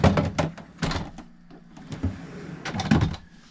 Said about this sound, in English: The doors are nice, they're soft closed as well.